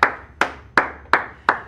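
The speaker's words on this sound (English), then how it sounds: "I'm here clapping with you." Hands clap five times at an even, brisk pace, each clap sharp and close, during a live cardio workout session.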